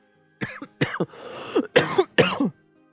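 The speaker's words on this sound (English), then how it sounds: "A little bit of a cough there." Four harsh coughs in a row, close and loud, with a short rough throaty rasp between the second and third.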